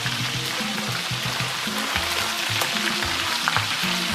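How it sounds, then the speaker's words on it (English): Steamed turkey tails deep frying in hot oil, a loud, dense, continuous sizzle and bubbling heard up close, with faint crackles and no talking. "So I'm just going to fry it."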